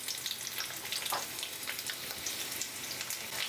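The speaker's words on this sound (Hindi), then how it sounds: "तेल जैसे ही हमारा हल्का गर्म हो जाएगा, हम डाल देंगे यहाँ पे 2 मीडियम साइज के प्याज को थोड़े से मोटे टुकड़ों में काट के" Two medium onions, cut into fairly thick pieces, fry in lightly heated oil in a kadhai, giving a steady, soft crackling sizzle with light popping throughout and no voices.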